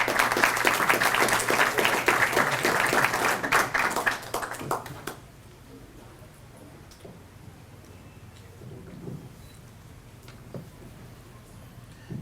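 Audience applause at a spring event welcomes a gospel singer and speaker to the stage, loud dense clapping for about five seconds that fades out, then leaving quiet room tone with faint scattered sounds.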